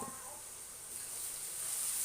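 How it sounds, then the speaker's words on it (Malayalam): Ingredients for chicken curry fry in a pan with a soft, steady sizzling hiss, fairly quiet and continuous throughout. "ഇനി പെട്ടെന്ന് ഫ്രൈ ആയിക്കോളൂ"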